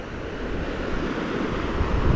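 Fast-flowing river water in the Rio Grande del Norte wild rivers area, a steady close rushing hiss with faint wind and no voices over two seconds.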